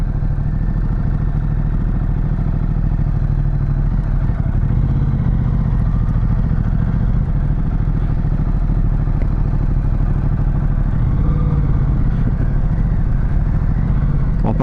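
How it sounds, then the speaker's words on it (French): A Ducati 1200 Multistrada motorcycle engine runs loud and close for the whole stretch, a steady dense rumble with slight swells of revving and no voices over it. "Dès qu'on accélère, on sent bien des pétarades."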